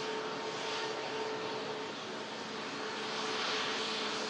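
Ryanair jet airliner taxiing at Manchester Airport, a faint distant steady engine whine and rumble holding throughout, swelling slightly toward the end, with no talk over it.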